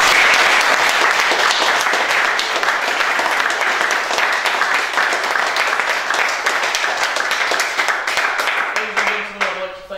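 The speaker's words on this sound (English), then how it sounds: "and we have a round of applause round." Loud, full applause from an audience after a youth speech presentation, a sustained dense roar of clapping that gradually fades and trails off with a few last claps at the end.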